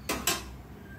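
Two quick metallic scrapes of a spoon against a cooking pot as paneer is stirred into masala, close and distinct, then a quiet low hum.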